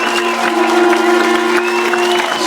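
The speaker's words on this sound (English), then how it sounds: "Just listen to the roar of the crowd." A football crowd at a grand final roars as the players walk onto the pitch, a dense, continuous swell of cheering and applause with steady droning tones running underneath.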